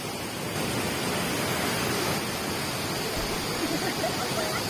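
A fast-flowing, flooded river beside a road in Uttarakhand after heavy rain, where part of a bridge has been swept away. Its steady, loud rushing roar of water runs unbroken throughout, close by.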